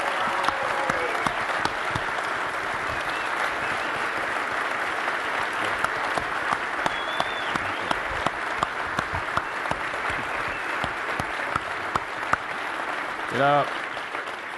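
A conference audience gives sustained applause for the director of the United States Fish and Wildlife Service, a broad, continuous clatter of many hands that fills the room, with a voice briefly speaking near the end.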